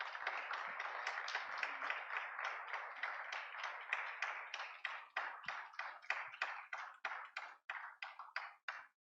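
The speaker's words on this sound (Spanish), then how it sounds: "Dale un aplauso al Señor." A church congregation claps together in a steady rhythmic beat, each clap distinct and fairly soft, the pace loosening and thinning toward the end.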